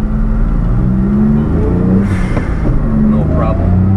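A 1991 Daihatsu Atrai Turbo kei van with an intercooler drives and turns around, its small engine humming steadily and close, with a slight rise in revs midway and people talking over it.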